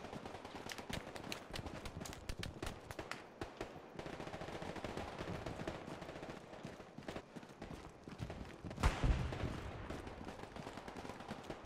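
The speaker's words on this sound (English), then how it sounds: "Gunfire and explosions is all I hear" Rapid bursts of gunfire crackle continuously in the video game Hell Let Loose, with a heavier blast near the end, dense and sustained with no talking.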